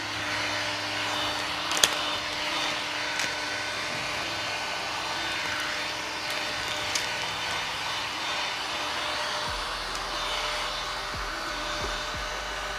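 A heat gun blows steadily while vinyl wrap is peeled off a car quarter panel, a constant airy fan roar close by with a few faint clicks and taps, no talking.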